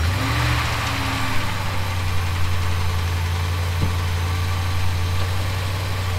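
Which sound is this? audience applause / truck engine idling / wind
truck engine idling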